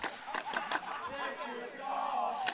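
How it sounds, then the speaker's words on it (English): Scouts crowd cheering and shouting at a staff versus scoutmasters volleyball game, a moderately distant, continuous mass of voices with a few sharper yells early on. "the Scouts have started cheering"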